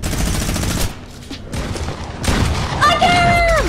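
Loud bursts of gunfire in the video game Fortnite, dense rapid shots packed together with electronic game tones sweeping in near the end, with talk over the action.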